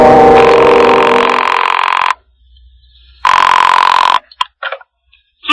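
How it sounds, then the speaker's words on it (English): An old-style telephone bell rings loudly in two long, close bursts separated by a pause, followed by the clatter of the receiver being picked up, a radio drama sound effect. "what we wait for is a phone call"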